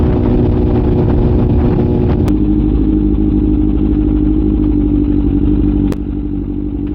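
A Kawasaki ZX6R motorcycle runs while being ridden, a loud steady engine roar with wind rush and a couple of sharp clicks, no talking.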